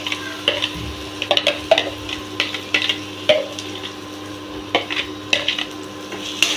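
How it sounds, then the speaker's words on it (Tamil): Chopped tomatoes tipped into a pan and stirred with onions for chicken fry: repeated clinks and scrapes of a spoon against the pan over a low sizzle and a faint steady hum, with no talk. "இப்போ தக்காளி நல்லா கட் பண்ணி வச்சதை போட்டுக்கலாம்"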